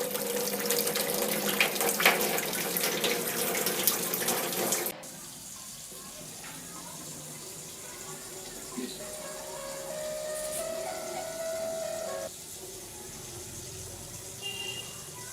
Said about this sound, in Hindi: जिया, भाई कर दे, बहुत देर से बह रहा है यार पानी